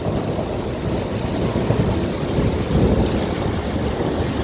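Continuous low rumbling of thunder in a heavy thunderstorm, mixed with loud steady downpour of rain, a dense broadband roar that swells slightly near the end.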